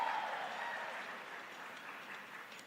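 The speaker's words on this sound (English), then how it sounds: "Give it out a round of applause." An audience at a money-making presentation gives a soft, distant wash of applause that fades slowly, with no single claps standing out.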